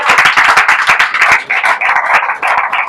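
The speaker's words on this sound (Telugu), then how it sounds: "చప్పట్లు కొడదామండి" Church congregation clapping hands at a pastor's sermon, loud and close, a rapid rhythmic burst of many palms beating together in quick unison for a few seconds.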